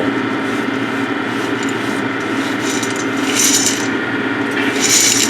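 A restored 1959 Axeman Anderson 130 coal stoker with its fan and auger running gives a continuous close mechanical rumble and grinding drone with faint ticking and scraping, and no one speaks.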